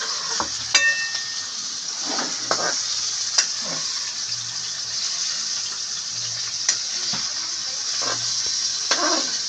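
Pork stirred in a pan with a ladle while it cooks: a steady sizzle runs throughout, broken by a few soft scraping knocks of the spoon against the pan, fairly close, with no talk.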